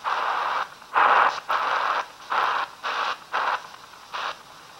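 Hissing static from the shortwave band of a QFX J-22U boombox cassette recorder comes in steady, loud bursts about half a second long with short gaps between them, and nothing else is heard.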